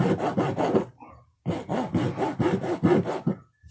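A wood rasp files a carved wooden owl in quick, rough strokes, two bursts of rhythmic scraping split by a short pause, close and with no voices.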